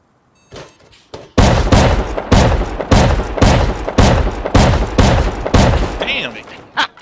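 Loud, close shotgun blasts from the survival game Rust boom out in a steady series of about eight heavy shots, evenly spaced and each with a short ringing tail, after a few faint knocks at the start.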